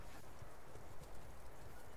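Horse hooves clip-clop at a gallop in a medieval multiplayer battle game, a quiet, steady rhythmic thudding under a busy background without talk.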